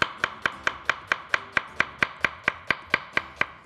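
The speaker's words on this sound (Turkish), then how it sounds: "ve güzel bir lezzet katması için soğanlarımızı bu şekilde doğruyoruz" A knife chops onions on a cutting board in a kitchen while Turkish stuffed chicken with bulgur is being made. About sixteen crisp, evenly spaced strikes come in a quick, steady rhythm, close and alone.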